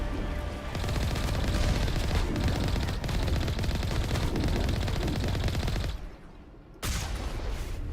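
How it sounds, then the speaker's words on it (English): Sustained automatic gunfire from enemy mercenaries in Mass Effect 1, loud and dense, a steady rattle of rapid shots that drops out briefly near the end before bursting back. "Why are you still shooting at me though?"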